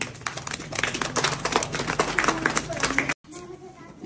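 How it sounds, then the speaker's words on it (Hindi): Children in a school classroom clap together in a loud, dense burst of applause that runs for about three seconds, cuts off abruptly, then is followed by quieter chatter. "तालियां"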